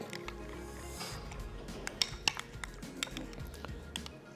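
A spoon clinks and scrapes against a bowl while mayo sauce is mixed with white pepper and lemon juice, light metallic taps and soft stirring, close and fairly quiet, with a few brighter clinks in the middle.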